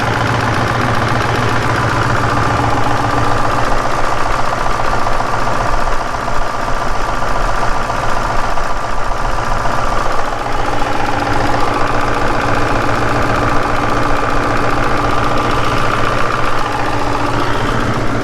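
Tractor engine running loud and steady with a rough, rumbling idle that continues unbroken, close by, with no voices.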